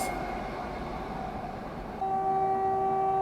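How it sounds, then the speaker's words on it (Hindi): Gaya–New Delhi Amrit Bharat Express passenger train running past at a station platform, a steady close rumble of wheels and carriages with tonal horn-like whistles sounding through the second half. "ये थी गया नई दिल्ली अमृत भारत एक्सप्रेस"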